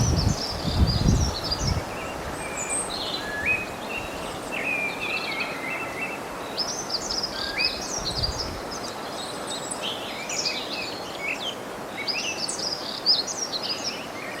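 A song thrush or similar songbird sings in a garden, its repeated phrases moderately close and steady throughout against light rustling background noise.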